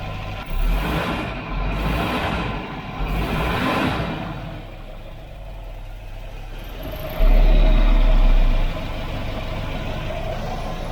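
A 1988 Volvo 740 GL engine idles steadily after ten years off the road, a loud low rumble with a few brief rises in pitch and a heavier low-end surge near the end, no voices.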